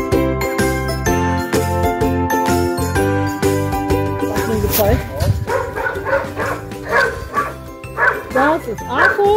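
Several dogs kept together at a farm bark, yip and whimper in quick bursts, with tags jingling, all close and loud over people talking and a dense tonal background.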